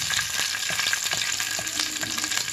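Steady, dense sizzle of a tempering of garlic and asafoetida frying in oil in a pan, close and continuous with occasional stirring scrapes, no talk over it.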